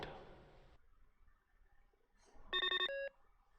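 Video phone ringing in The Pandora Directive video game, a bright electronic ring with a rapid repeated trill followed by a held tone, rising clearly above a quiet background.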